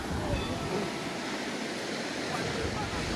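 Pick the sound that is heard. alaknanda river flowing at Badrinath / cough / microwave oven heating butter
alaknanda river flowing at Badrinath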